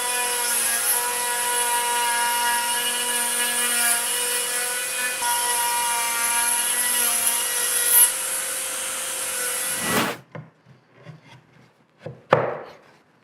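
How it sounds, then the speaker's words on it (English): A Pantorouter with a whining router bit cuts a wooden tenon by following a template for an Adirondack chair. The high, steady machine drone runs for about ten seconds, then stops, followed by a few light wooden knocks and handling sounds. "Cool thing about the Panta router is you use the same template to cut the mortise as you do the tenon"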